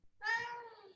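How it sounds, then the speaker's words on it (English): A cat meows once, a clear drawn-out call that fades at the end, fairly close and with no voices. "I heard you meow, cat."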